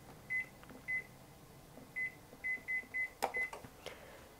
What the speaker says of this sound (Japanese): 今日は200度で予熱をしておきます。